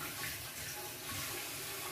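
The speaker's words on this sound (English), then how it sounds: "I'm rinsing the lids" Tap water runs steadily over tin can lids being rinsed at a kitchen sink while cooking chili, a soft continuous splashing with no talk.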